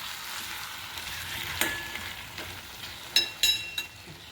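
Stuffed bitter gourd curry fries in oil in a pan while being stirred, with a constant soft sizzle and a few sharp scraping clinks of the spoon toward the end.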